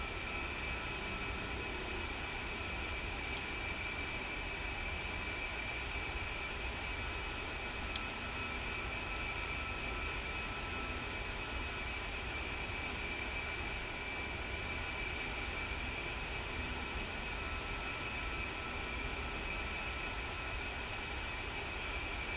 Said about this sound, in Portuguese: Motores ligados, tudo funcionando. E o pessoal está reabastecendo a aeronave.